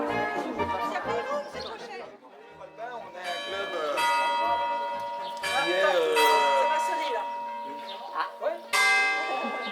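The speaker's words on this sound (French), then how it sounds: "On attend la fin de la cloche." A church bell rings continuously with sustained, overlapping metallic tones during a hike around a French territory, fairly loud and close, while a few voices chatter faintly beneath.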